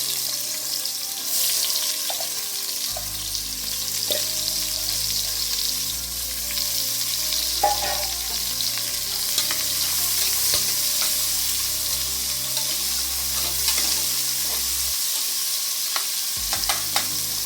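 Long-sliced onions frying in ghee and oil for channa pulao, a loud, constant sizzle near the pan with repeated stirring scrapes and light clinks of a utensil throughout.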